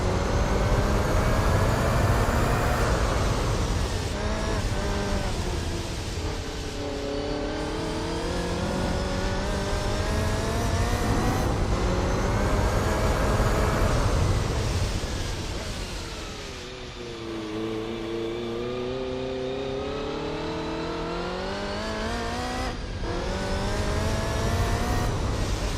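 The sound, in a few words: race car engine in video game Gran Turismo 4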